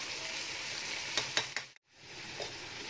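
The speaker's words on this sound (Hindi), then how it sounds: "इसको सही अच्छी तरीके से भूनना है इसको, पहले प्याज के साथ इसको भून के सही लाल करके" Chicken frying with onions in a pan for pulao biryani, a steady close sizzle with a few sharp crackles and a brief silent gap before the hiss resumes.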